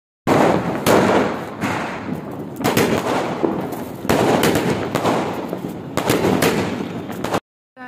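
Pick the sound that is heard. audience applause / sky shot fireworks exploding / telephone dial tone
sky shot fireworks exploding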